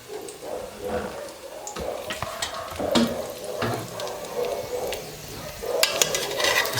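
Chapati frying in oil on a hot pan, a steady crackling sizzle with scattered sharp pops and spatters, moderately close and continuous throughout.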